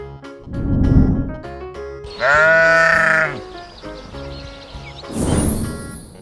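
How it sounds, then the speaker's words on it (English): Sheep bleating on a farm, a clear wavering bleat standing out over light music, with a couple of shorter broadband bursts around it. "Sheep."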